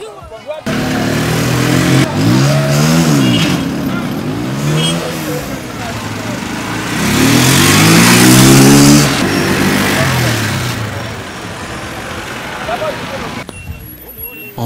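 Kawaki motorcycles rev repeatedly during street stunt demonstrations in Brazzaville, Congo, loud rising and falling engine sweeps with a long sustained peak midway, under continuous talk.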